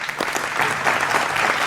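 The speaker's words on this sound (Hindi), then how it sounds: "पांचों मेहमानों का जोरदार तालियों से आप सबका अभिनंदन है।" A studio audience at a televised political debate claps steadily, a dense, even wash of applause that keeps going throughout.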